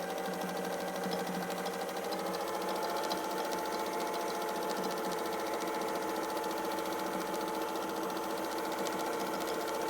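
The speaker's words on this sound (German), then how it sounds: "Näht ruhig über eure schon genähte Linie und dreht euren Stoff nach Herzenslust einfach, ohne nachzudenken," Free-motion quilting on a sewing machine as the fabric is turned freely under the needle, a continuous, even motor hum with rapid stitching rhythm throughout.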